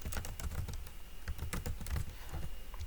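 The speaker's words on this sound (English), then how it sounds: "First, I type in the details of my learning content" Rapid, steady keystrokes on a computer keyboard as details go into a spreadsheet, close and fairly quiet, with a dense run of light clicks and no pauses.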